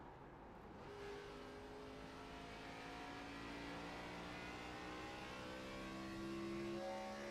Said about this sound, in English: Listen to the engine. There's the clutch, bringing the revs down as low as possible